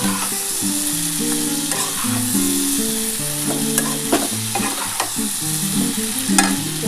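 Radish, beans and Malabar spinach stems frying in fish oil in a pan for a Bengali chachchari, with a close, steady sizzle under repeated scraping stirs of the spatula and no talking.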